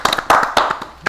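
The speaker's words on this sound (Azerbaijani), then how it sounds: "Alqışlar Aygün xanımı" An audience applauds the accordion player Aygün, the first female accordionist in Azerbaijan, at a presentation event. Quick, loud, irregular claps overlap close by in a short burst of clapping.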